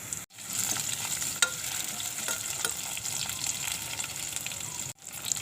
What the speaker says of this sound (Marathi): आल्याचा किस, कढीपत्ता, सुक्या मिरच्या टाकते.